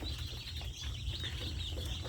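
Tiger breed chickens on a poultry farm cluck softly and intermittently, faint and close, over a low background hum.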